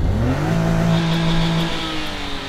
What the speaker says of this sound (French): Ah, c'est le turbo, ça.